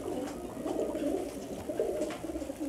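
Pigeons coo softly and continuously in a Giribaz high-flyer pigeon shop, overlapping low murmuring calls close by with light background noise.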